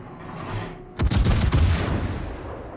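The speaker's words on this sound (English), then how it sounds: "Now, we get a nice good salvo on that Ayoba." Naval gun salvo from a Hipper cruiser in World of Warships: a sudden loud booming volley of several overlapping shots, then a rumbling decay, alone after a quiet lead-in.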